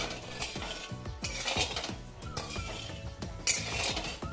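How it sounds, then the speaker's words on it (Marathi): A spoon scraping and stirring sugar and water in a heavy-bottomed kadhai, repeated rhythmic metallic scrapes roughly every half second, close and fairly loud, with one sharper clank, no voices. "साखर थोडीशी हलवून घेऊया।"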